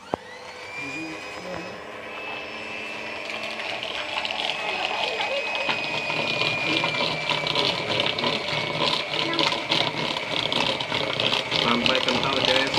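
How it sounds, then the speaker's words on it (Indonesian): An electric hand mixer whips dalgona coffee of instant coffee, sugar and hot water, a steady close whirring hum that builds slightly and runs continuously. "Terus nyalakan mixer lebih dahulu, cek benar belum."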